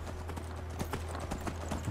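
Horse hooves clip-clop at a steady walking rhythm in the video game Skyrim, a series of crisp, evenly spaced hoof strikes over a constant low hum, with no voices.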